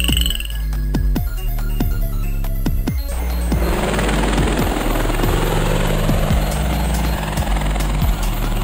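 Rapid low thumping of helicopter rotors pulses steadily, then a dense roaring wash swells up and continues loudly to the end.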